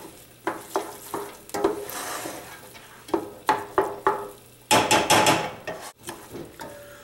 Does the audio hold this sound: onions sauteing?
yes